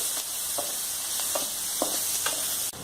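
Mustard seeds spluttering in hot oil for butter chicken, with onions being sautéed, a continuous sizzle punctuated by several sharp pops and stirring scrapes.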